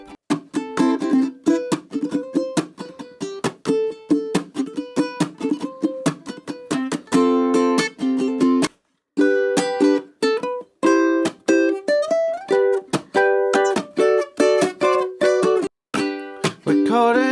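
A ukulele in high-G tuning is strummed and picked in a bright, lively pattern of quick, chord-heavy strokes with short pauses, played close and alone without any voice.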